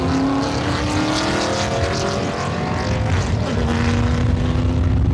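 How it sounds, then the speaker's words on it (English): Bill Elliott's 3,500-pound number 11 NASCAR race car thunders onto the track, its loud engine droning steadily and rising in pitch throughout, close and continuous with no talk. "Bill Elliott thunders the number 11 onto the track."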